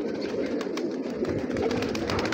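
Soft, repeated cooing of pigeons close by, a low burbling murmur continuing without pause.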